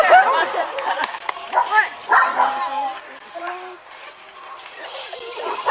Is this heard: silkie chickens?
no